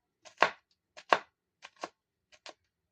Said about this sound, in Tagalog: Bago natin hiwain ng maliliit lang. Maliliit lang na hiwa.